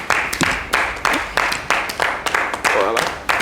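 Applause as a guest is welcomed onto the stage at a live French-language entertainment show, loud clapping with rhythmic surges, and a few voices and some music blended underneath.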